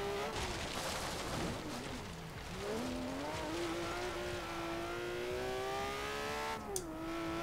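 Porsche engine in the Forza racing game revving high and climbing steadily toward redline, a loud continuous whine with rising harmonics and a brief shift blip near the end, no voices.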